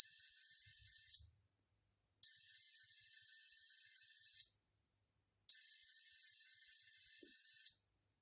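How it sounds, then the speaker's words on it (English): A control unit alarm sounds three long, steady high-pitched electronic beeps, each about two seconds, separated by short silent gaps, clear and alone. "there's our alarm beep"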